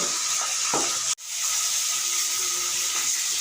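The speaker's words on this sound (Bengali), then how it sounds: "ভাজা ভাজা হয়ে গেছে এবার অন্য সবজিগুলো দিয়ে দেবো" Close, loud hiss and sizzle of cauliflower stalks frying in a pan, with a brief break in the sound before the frying continues steadily.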